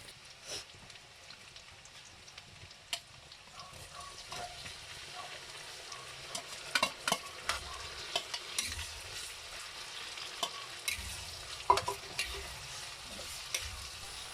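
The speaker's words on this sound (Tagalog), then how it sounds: "atin naman nang ilalagay ang ating kamatis. Ihahalo na natin yung ating kamatis." Tomatoes sautéing in a pan for sweet-style shrimp paste (bagoong alamang), a faint, steady sizzle with light scattered crackles and occasional utensil taps as they are stirred.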